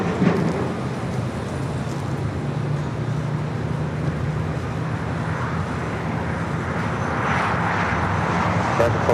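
A Delta Boeing 767-300ER airliner at LAX produces a loud, continuous broadband engine roar that holds steady throughout, heard outdoors without speech.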